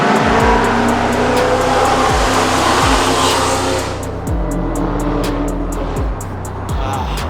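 A Dodge Challenger with the Hemi 392 V8 drives by close and loud, its deep engine rumble rising and falling in repeated surges.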